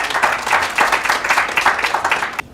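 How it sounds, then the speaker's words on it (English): A round of applause from a healthcare summit audience, a loud, dense burst of clapping that continues steadily and then cuts off abruptly near the end. "please give him a round of applause."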